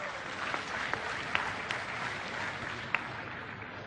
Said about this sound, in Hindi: ये तो आप तालियां बना रहे हैं ना